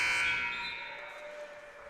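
A game-ending buzzer blares in a school gymnasium at a girls' high school basketball game, a loud sustained electronic tone that fades slowly over about two seconds amid faint crowd noise.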